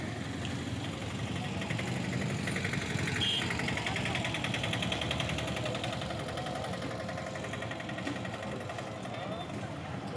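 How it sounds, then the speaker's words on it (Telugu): New tractors gathered outside a temple at Nimmikal, Suryapet, as farmers bring them for puja. A steady, rumbling engine idle runs throughout at moderate distance, with a voice talking over it. "కొత్త ట్రాక్టర్లు అండ్ చూడండి అన్ని పూజలు చేసుకోవడానికి వచ్చారు రైతులు"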